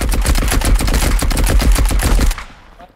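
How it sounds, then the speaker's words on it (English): Rapid automatic gunfire from the video game Marauders rattles out in a dense, sustained burst for over two seconds, then cuts off abruptly, leaving a brief quieter tail. "Gunshot. Down there."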